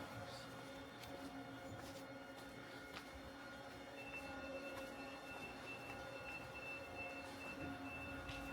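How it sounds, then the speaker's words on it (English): A train idles at a quiet station platform near Kurama in Kyoto, a steady low mechanical hum and tonal whine with faint clicks and brief distant voices. "I guess I should probably board this train."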